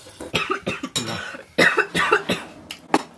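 A burst of repeated forced coughs, around ten short hacking coughs in quick succession, close and clear with brief gaps between.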